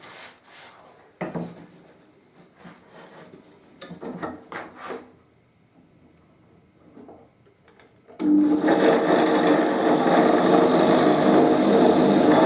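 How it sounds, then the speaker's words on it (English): Power drill boring two holes through a drilling jig pinned with 1/4 inch pins on an archtop guitar build; quieter handling and rubbing sounds first, then a loud, steady drill whine running continuously to the end. "now what I can do is I can drill these 2 holes, confident that this drilling jig isn't going to move"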